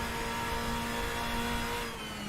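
Turbocharged DTM race car engine in the RaceRoom racing game, a steady, muffled mid-range drone holding at a constant pitch with no gear changes or clear revving across the short stretch.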